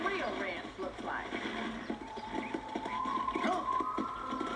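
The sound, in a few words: horse in Red Dead Redemption video game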